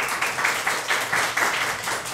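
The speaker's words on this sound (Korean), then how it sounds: "우리 다시 한 번 더 큰 박수로 환영하겠습니다." A church congregation at a Sunday afternoon service claps to welcome a guest pastor, a moderate, rhythmic applause with regular beats roughly every quarter second, heard from a short distance.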